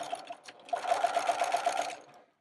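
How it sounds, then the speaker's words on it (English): A sewing machine runs a single line of stitches through a quilt block laid on paper, its rapid rhythmic whir starting after a brief hesitation and holding steady for over a second before stopping, fairly close. "let's just go ahead and make a single stitch line here"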